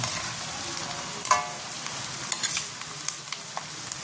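Onions sautéing in a pan for ginisang patola are stirred, with a steady sizzle and scraping strokes of the utensil, a sharper clatter near the middle and more scrapes after.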